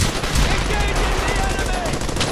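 Sustained, dense gunfire on a battlefield, rapid overlapping shots and bursts filling the whole moment at close range, with shouting voices mixed in.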